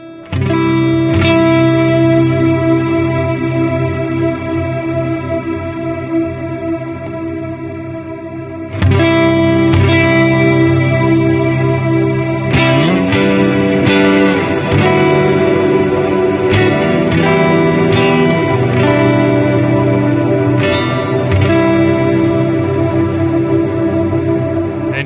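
Red Sea effects pedal with its wet/dry knob turned clockwise, processing a sustained chord into a loud, shimmering wash of chorus, echo and reverb, with new strums entering partway through and layering over the ringing tail.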